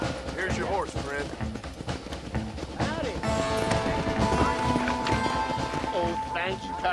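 Horse hooves clip-clop in the Red Dead Redemption video game, set against a busy mix of game music and effects, with voices talking over the rhythmic steps.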